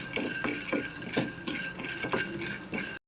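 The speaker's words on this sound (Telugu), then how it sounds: "ఇప్పుడు పల్లీలు వేస్తున్నాను. దోరగా వేయించుకోవాలి." Peanuts stirred in a dry pan on the stove for a tomato-peanut masala curry, giving repeated scraping rattles and light clinks at a steady, irregular rhythm, close and moderately loud with no talking.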